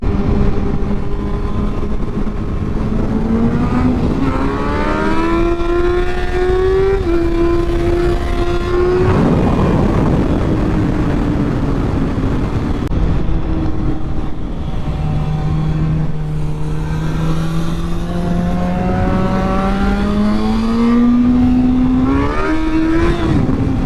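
Yamaha FZ1 and R6 sport motorcycles rev hard and continuously, their engine notes sweeping up and down in pitch through repeated climbs and drops, loud and close with no talking.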